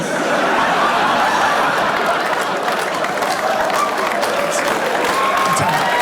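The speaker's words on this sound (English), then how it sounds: "Don't clap at that." Stand-up comedy audience clapping and laughing together in a steady, dense wash of crowd noise for several seconds, with no voice on top.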